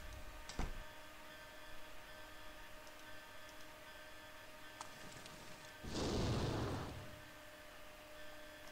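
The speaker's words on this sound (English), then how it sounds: "So let's pour the oil into this fryer and make him explode." An oil-filled fryer explodes in a hidden-object puzzle adventure game, a single muffled boom of about a second rising over a quiet hum, preceded by faint clicks and ticks.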